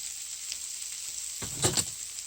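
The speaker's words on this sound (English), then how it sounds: "saute the spices so that their rawness goes away and you can smell the fragrance of the spices" Turmeric, red chili and coriander powders sauté in a hot pan for mustard greens, a soft steady sizzle with a brief louder burst of stirring scrapes near the middle, no talking.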